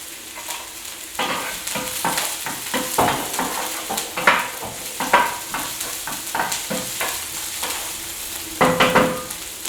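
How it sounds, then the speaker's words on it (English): Chilies sautéing in a hot pan, a steady sizzle broken by repeated stirring scrapes and clinks of a utensil against the pan, close and fairly loud throughout. "We're going to saute it until it's nice and brown or translucent."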